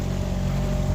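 A sailboat's overheating outboard engine runs on a calm sea, a loud, steady low drone with a constant throb and no voices.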